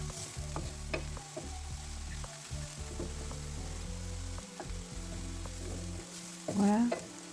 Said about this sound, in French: On va mélanger bien.